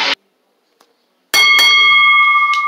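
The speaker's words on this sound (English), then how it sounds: "the bell ring main event starts now" A wrestling ring bell clangs to start a women's main-event singles match, a bright metallic ring that sustains and decays after a short clatter, with a second strike near the end.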